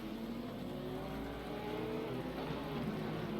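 Racing cars in a video game race at the Barcelona circuit, including a McLaren and a BMW, roar steadily and loudly throughout as several engines drone together near the listener.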